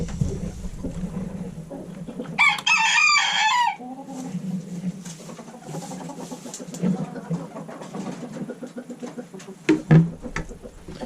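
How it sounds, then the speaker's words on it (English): A rooster crows loudly once, followed by steady clucking and soft chatter from bantam chickens and hens close by, with a few sharp bursts near the end. "We got another hen in here. I got two bantams in here too."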